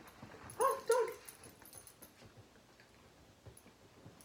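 A dog gives a couple of short, high whimpers close by, then goes quiet apart from faint ticking in the background.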